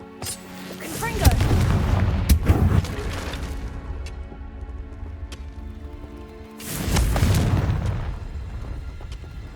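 Booming fire-spell blasts in the video game Hogwarts Legacy, two heavy low explosions a few seconds apart, each swelling loud then decaying into a rumbling tail, with a sharp crack near the start.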